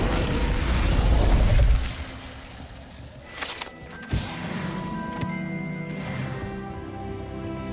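Incendio fire spell cast in Hogwarts Legacy, a loud whooshing burst with low rumble that drops away, followed by sparse mechanical clicks and a sharp crackling pop.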